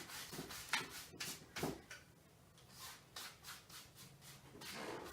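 A paintbrush scrubs crisscross strokes across a canvas while following a Bob Ross mountain summit painting, a quiet, close, irregular rubbing and scratching with soft pauses between strokes.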